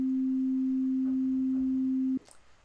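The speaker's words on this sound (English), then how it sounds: "that's the sine wave" A pure, steady sine wave tone around middle C holds evenly for about two seconds, then cuts off abruptly into quiet room noise.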